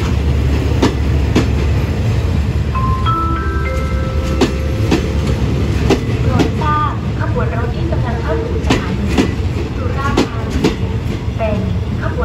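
Thai passenger train 168 with a first-class sleeper car attached, at Surat Thani station at night: continuous loud rolling rumble with wheel clatter and brake squeal tones, with voices underneath.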